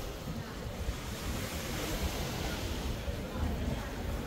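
Sea waves wash onto the sandy beach of a Maldives island in a steady, soft surf hiss with a low rumble beneath, heard alone and fairly faint throughout.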